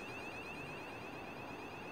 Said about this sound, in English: We've got alarms going off in the background.